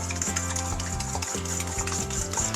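Spoon stirring an egg and a yolk into cookie dough in a bowl, a close, steady scraping and rubbing with no voices.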